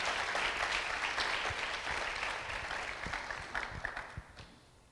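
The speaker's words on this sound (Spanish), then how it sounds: "Dale un aplauso glorioso al Señor." A church congregation claps and cheers in sustained applause during a worship service, dense and loud at first, then gradually thinning and fading over the final seconds.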